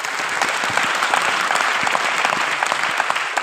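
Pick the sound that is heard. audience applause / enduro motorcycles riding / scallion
audience applause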